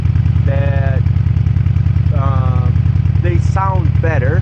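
A 17-year-old Honda Shadow motorcycle idles with its original exhaust pipes and mufflers removed, a loud, steady low rumble throughout, with someone talking over it in several short phrases.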